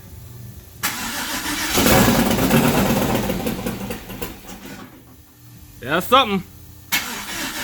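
A turbocharged LS engine in a Cadillac Fleetwood cranks over and catches, loud and close, rumbling for a few seconds before dropping off, with a brief spoken remark and a whirring whine near the end.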